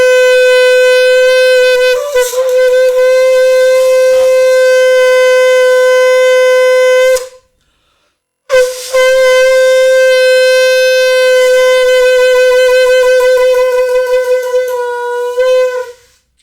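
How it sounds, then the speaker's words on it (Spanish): A loud, sustained horn-like blast from a conch shell, rich in overtones, held for several seconds, then a brief pause and a second long blast. "El caracol es un instrumento con un carácter muy fuerte"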